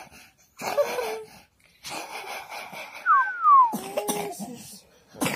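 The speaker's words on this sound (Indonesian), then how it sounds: "Batuk." A child coughs a few times in short bursts with wheezy, throaty breaths in between, close by and fairly loud, separated by brief pauses.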